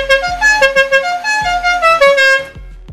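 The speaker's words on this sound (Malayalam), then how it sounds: "പിന്നെ ഹോൺ ഉണ്ടല്ലേ? ഹോണാണ് മെയിൻ." Musical horn on a modified Maruti Omni van plays a loud, close run of rising and falling tonal notes for about two and a half seconds, then stops, with no talk.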